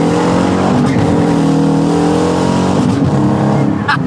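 Car engine revving hard while driving, a loud, steady roar with rising and falling pitch that fills the whole stretch, close and continuous.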